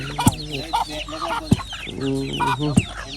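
Chickens cluck and squawk close by in a village, several short calls in uneven bursts over low background noise.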